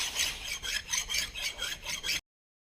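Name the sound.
filing a metal edge with a hand file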